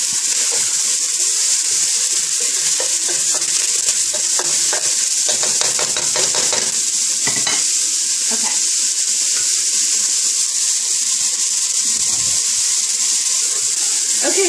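Apple and onions frying over very high heat for a kale dish, a steady loud sizzle throughout with scraping stirs and clinks of a utensil against the pan.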